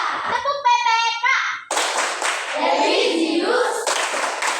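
Children in a classroom perform the Tepuk PPK clapping chant, a harmonic sung call giving way to loud, rhythmic group handclaps mixed with shouted voices.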